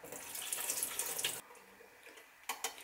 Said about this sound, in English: When you rinse the bean sprout, you have to handle with care. Just a soft touch and discard the water.